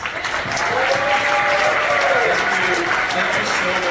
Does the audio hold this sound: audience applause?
yes